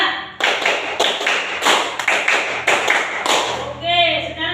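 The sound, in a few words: boys clapping a rhythmic clapping pattern in class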